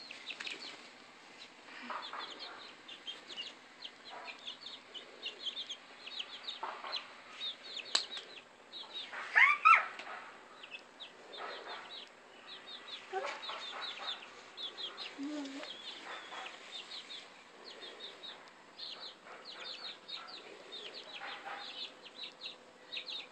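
Chickens clucking and flapping their wings outdoors, soft repeated clucks and short squawks scattered throughout with a louder flurry midway, while people talk quietly nearby.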